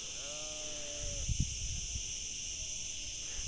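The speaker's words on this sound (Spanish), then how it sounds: "Mira cómo canta la chicharra" Chicharras (cicadas) drone in a steady, high, unbroken buzz through the whole stretch, with a short sheep bleat early on and faint livestock shuffling near water.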